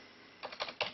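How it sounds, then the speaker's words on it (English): A few quick keystrokes tapped on a computer keyboard while entering a settings command for an Atomstack laser engraver, three short clustered bursts of clicks close up after a quiet start, with no voices. "when you type that command in, it should say OK"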